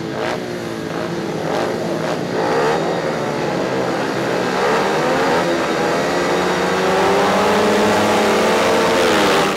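Speedway bikes at Perris Raceway revving hard at a heat start, a loud, continuous layered engine roar with rising and falling pitch sweeps as several machines accelerate away together.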